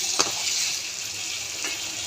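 Fried potatoes are sautéed in spice masala for a thin katla fish curry, giving a short burst of sizzling with a couple of sharp stirring scrapes, close and moderately loud.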